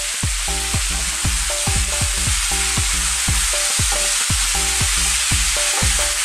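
Little shrimps or prawns fry in a pan for a fish pie, giving a steady close sizzle broken by rapid rhythmic clatter and scraping as they are stirred throughout.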